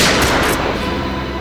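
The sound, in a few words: gunshot in TV drama scene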